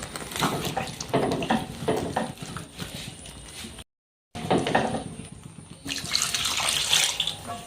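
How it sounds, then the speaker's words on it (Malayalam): Water is poured and stirred in a pan of prawn curry in short splashy bursts, interrupted by a brief silent gap, then a longer steady pour. "നമുക്ക് കുറച്ച് വെള്ളം ഇതിനകത്തോട്ട് ഒഴിച്ചു കൊടുക്കാം"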